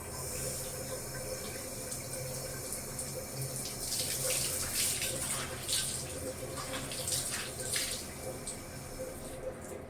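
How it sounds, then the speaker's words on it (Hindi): Clothes being washed by hand under a running tap, with steady water flow and intermittent splashing and sloshing of wet fabric close by, no talking. "बाकी हम कपड़े धो के बनाएंगे हैं जी"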